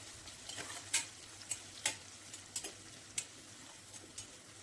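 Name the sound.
onion, green chili and curry leaves sautéing in pan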